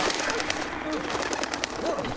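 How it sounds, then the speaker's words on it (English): A pigeon coos softly in the background, brief rolling calls partly buried beneath people talking over it. "Like a pigeon."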